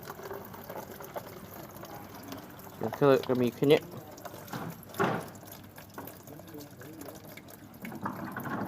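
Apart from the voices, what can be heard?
coolant water draining from Mitsubishi E-Car 4G15 radiator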